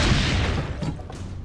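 A single cannon in the Assassin's Creed: Brotherhood video game fires with a deep, heavy boom that rolls out and decays over about a second and a half, loud and close with no talk over it.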